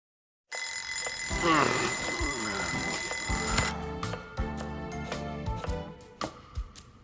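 An in-game alarm clock ringing in the video game Lost Judgment: a loud sustained metallic bell ring for about three seconds, then a run of scattered clicks and bumps.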